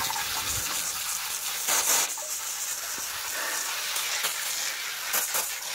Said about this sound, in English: Now I'm just gonna spray it off starting at the top.